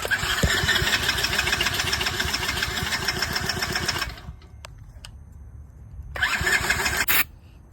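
A Coolster 110 pit bike with a suspected fuel issue, its starter whirring and engine cranking loudly and steadily, then stopping, followed by a second short burst of cranking after a pause.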